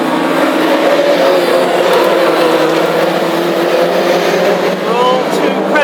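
Classic hot rod race cars roar and rev continuously on a circuit at Tipperary, a loud, steady engine drone during a race heat with a commentator talking over it throughout.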